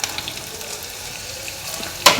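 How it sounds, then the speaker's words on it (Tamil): Small shallots dropped into hot oil in a pan give a steady, soft sizzle close by, with a brief louder burst of crackle near the end. "இப்போது இந்த பேனில் ஆயில் ஊற்றி ஹீட் ஆனதுக்கப்புறம் நம்ம எடுத்து வச்சுருந்த சின்ன வெங்காயம் போடுறோம்."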